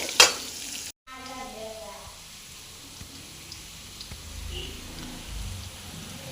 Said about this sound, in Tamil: பாருங்கள், வெங்காயம் நல்லா வதங்கிடுச்சிங்க.